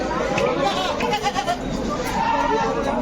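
Goats bleat amid the busy crowd noise of a goat market in Ajmer, with overlapping calls and people talking throughout.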